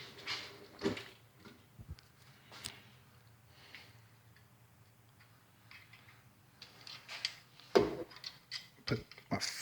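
Snap-on toolbox drawer opened in a garage, giving a scattering of metallic clicks, ratchety slides and clunks of tools shifting, fairly close and moderate, with quiet gaps between the bursts.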